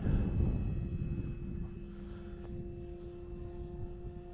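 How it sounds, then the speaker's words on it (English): An Arrows RC Trekker model plane's electric motor whines steadily as it takes off outdoors, a loud close hum that eases slightly as the plane pulls away, with no speech. "This plane will definitely get up off the ground in a hurry."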